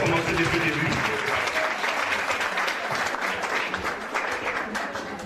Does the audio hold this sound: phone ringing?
no